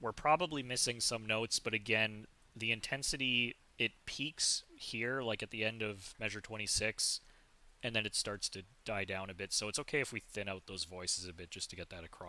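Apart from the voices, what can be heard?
No everyday noise stands out behind the speech.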